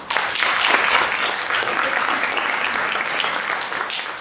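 A conference audience at a games industry event breaks into loud sustained applause that swells in the first second, then holds steady.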